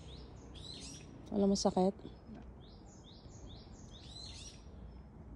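Birds chirp and tweet steadily in the background outdoors, with repeated bright calls throughout, while someone speaks briefly near the middle.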